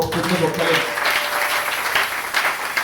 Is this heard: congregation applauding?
yes